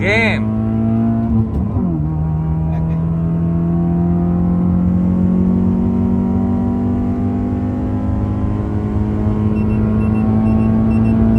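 A lowered, nitrous-fed car with an R18 engine making over 200 horsepower holds a loud, close, droning rev that climbs slightly as it pulls in second gear, with faint talk underneath.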